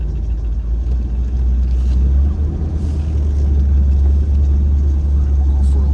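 Steady, loud low rumble of a 1975 Chevrolet Corvette Stingray engine running, a close continuous drone that swells slightly partway through, with no talk over it.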